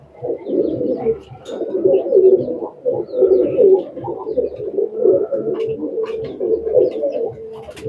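Teddy pigeons cooing steadily in a loft, a repeating run of soft, throaty coos that rise and fall for several seconds, close and fairly loud, with no voices over them.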